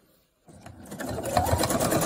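A sewing machine stitches fabric for a face mask alongside the elastic, starting after a short silence and running up to a steady, close, rapid mechanical whir.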